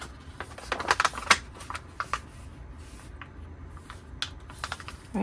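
Paper pages for a junk journal are handled and trimmed, giving light crisp snips, rustles and small ticks in irregular bursts, close and fairly quiet, with no one talking.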